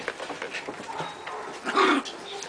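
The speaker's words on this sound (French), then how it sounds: "il y a un chien qui aboie, mais c'est pas chez moi" A distant dog barks from a neighboring property near a Leonberger kennel, a few short yelps and whimpery barks heard faintly under the outdoor ambience.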